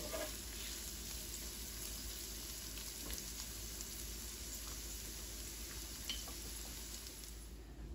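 Spam browns in a frying pan for a creamy white spaghetti dish, giving a soft, steady sizzle with faint crackles. It is heard alone, quiet and close.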